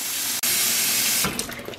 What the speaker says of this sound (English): we'll fill this up all the way with water